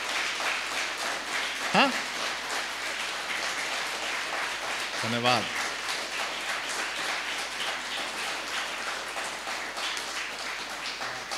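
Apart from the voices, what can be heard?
audience applause at a comedy poetry show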